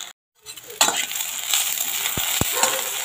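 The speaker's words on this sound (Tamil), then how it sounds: "நல்லா வதங்கட்டுங்க" Sliced okra (ladies' finger) sautéing in plenty of oil for a tamarind curry, a steady broad sizzle, close up, with a couple of sharp utensil taps against the pan partway through and no voices.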